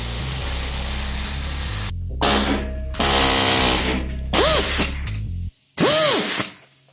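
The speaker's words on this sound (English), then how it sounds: "Enough beating and grinding, I got it off" A power tool grinds away at a broken-off hard steel part during a car project. It comes as several close, loud bursts of whining motor noise that rise and fall in pitch, with short gaps in between.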